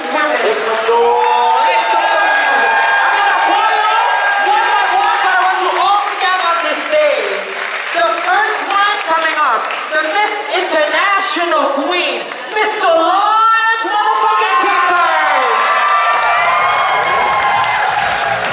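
A crowd at a drag show cheers, whoops and claps loudly for the drag performers, with excited high-pitched shouting throughout and a continuous roar of voices.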